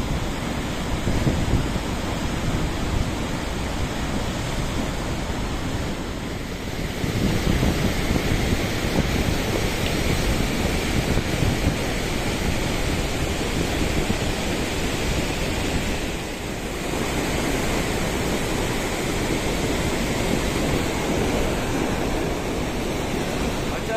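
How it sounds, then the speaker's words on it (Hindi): Water released from a dam or sluice gate rushes in a steady, loud broadband roar that continues throughout, dipping briefly twice but otherwise unbroken, with no voices audible. "यहाँ से पानी खोल दिया गया है"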